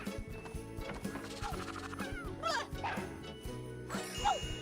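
A dog enemy in the PlayStation game Croc: Legend of the Gobbos gives a few short cartoonish barks and yelps over looping game music with jingling, clip-clop effects.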